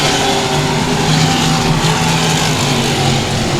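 Street stock race cars roaring around a speedway oval, a loud, continuous wash of engine noise from several cars at once, steady throughout with no talking.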